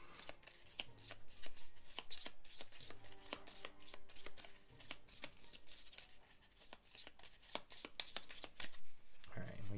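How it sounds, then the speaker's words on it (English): Riffle-shuffling of playing cards, a series of sharp rapid snaps and flutters repeating through the clip, close up and fairly quiet. "We give them a shuffle."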